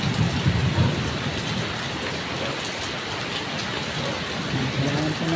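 Heavy rain pours steadily in a strong windy storm, a dense loud hiss of rain on surfaces throughout, with a low rumble of thunder early on and again near the end.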